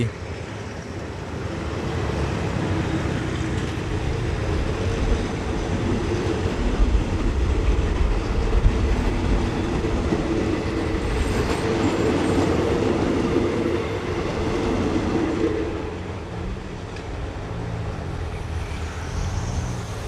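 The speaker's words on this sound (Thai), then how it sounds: "ขบวนรถก็ออกที่รถบางระมาดนะครับ ข้าม คลองชักพระ" A train pulls away from Bang Ramat stop in Bangkok and rolls over the Chak Phra canal, a loud, steady rumble of wheels on rails with rhythmic clatter and faint squeals, close by for the whole stretch, with no talking.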